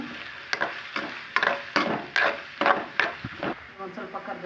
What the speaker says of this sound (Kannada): ಎಣ್ಣೆ ಕಾದಿದೆ ಈರುಳ್ಳಿ ಸೇರಿಸ್ಕೊಳ್ತಾ ಇದ್ದೀನಿ ಈರುಳ್ಳಿ ಚೆನ್ನಾಗಿ ಮಿಕ್ಸ್ ಮಾಡ್ಕೊಳ್ಬೇಕು